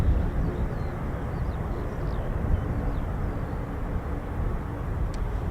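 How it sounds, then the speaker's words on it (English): MC-130J Commando II engines spool up at an airbase, a low, broad rumbling roar heard from a distance, steady and continuous. "I can hear it spooling now, then running the MC-130J Commando 2"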